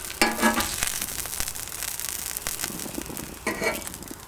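A sage and onion turkey burger sizzles on a BBQ grill, a steady crackling hiss with sharper pops and brief louder bursts as it is handled.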